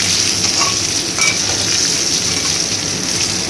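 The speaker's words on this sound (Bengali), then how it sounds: "বেগুনটা ফ্রাই হচ্ছে" Brinjal (eggplant) frying in a pan for a fish curry, a continuous close, loud sizzle with steady crackling throughout and no talking.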